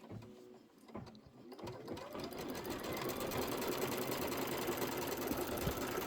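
Sewing machine stitching fabric starts with a few slow stitches, then speeds into a steady, close, loud mechanical whirring run.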